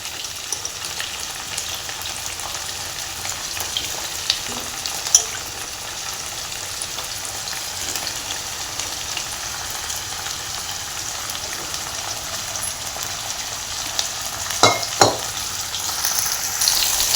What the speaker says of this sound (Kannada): ಹಾಗಲ್ಕಾಯಿನ ಸೇರಿಸ್ಕೊತಾ ಇದ್ದೀನಿ ಇದನ್ನೂ ಚೆನ್ನಾಗಿ ಫ್ರೈ ಆಗಬೇಕು